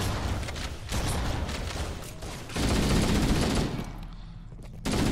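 Rapid weapon fire in the Halo CE campaign, with dense bursts of heavy shotgun-like blasts coming in close, loud waves separated by brief lulls.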